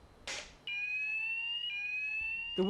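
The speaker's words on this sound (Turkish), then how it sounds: "Gerrit, Gerrit, yangın çıktı alarmı çalıştır." A fire alarm in a business premises blares a loud, steady electronic tone after a short burst of noise, holding continuously with a slight pitch step partway through.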